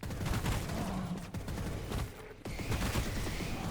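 Gunfire in the fast first-person shooter Into The Pit, with dense, rapid bursts of shots and blasts running almost continuously and loudly, briefly thinning for a moment midway.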